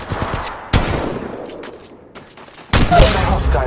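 Bursts of rapid automatic gunfire in the mobile shooter game Apex Legends Mobile, loud and close, two sharp volleys separated by a quieter stretch of scattered shots.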